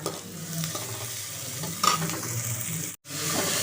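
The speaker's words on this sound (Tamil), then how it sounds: "வெங்காயம் தக்காளி நல்லா வதங்கி வரட்டும்" Onion and tomato sauté in a pan for a spiced cumin curry, giving a continuous moderate sizzle with faint stirring scrapes and one brief drop to near silence.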